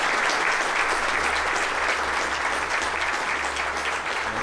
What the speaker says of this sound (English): I'd like to ask you to give a warm round of applause for our overall.